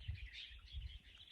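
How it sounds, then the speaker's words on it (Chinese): Birds chirping in a hilltop nature reserve beside a farm plot, several light calls and song phrases repeating over a low rumble, fairly faint and distant with no one talking. "听到鸟鸣没有？"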